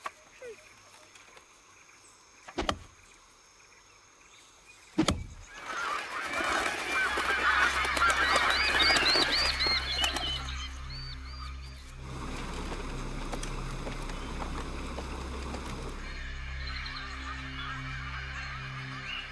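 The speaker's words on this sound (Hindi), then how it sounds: "हो सकता है इन चिड़ियों ने कभी किसी को पेड़ काटते हुए नहीं देखा और इसलिए परेशान हो रही है।" Agitated birds in a Hindi action film scene, a flock of honking, goose-like calls rising after two sharp knocks and continuing loud and busy, then settling into a steadier chorus under a low rumble.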